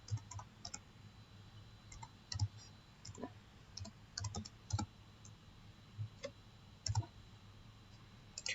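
A computer keyboard clicks through an Emirates ID number, quiet irregular key taps in small clusters with pauses, close and faint in a still room with no talking.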